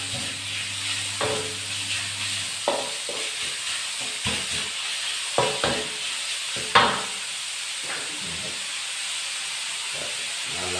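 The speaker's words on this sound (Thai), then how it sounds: "ผัดหมูให้พอสุกนะครับ" Pork stir-frying for Thai pad kra pao: a steady, loud hiss and sizzle throughout, broken by scattered clanks and scrapes of a utensil against the pan.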